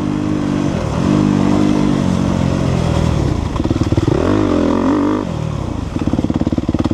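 A dirt bike rides laps on an overgrown trail, its engine revving up and down through throttle changes and shifts, loud and close throughout with no talking.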